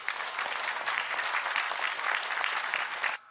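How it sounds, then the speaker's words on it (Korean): A hall audience at a political party launch applauds to welcome a former lawmaker to the podium, a loud dense burst of many clapping hands that runs steadily for about three seconds and then cuts off abruptly. "박수로 환영해 주십시오"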